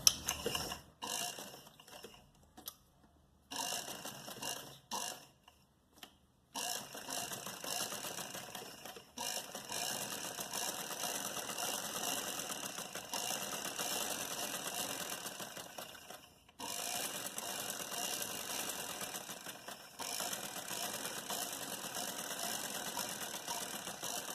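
Sewing machine stitching a salwar poncha hem, a steady mechanical whir running almost continuously with a few short pauses and restarts, close and moderately loud with no talking.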